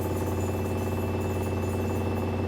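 An LG washing machine in diagnostic mode with its drum spinning up fast, a loud steady mechanical hum and rumble with vibration from the shaking cabinet, continuous and close, no voices.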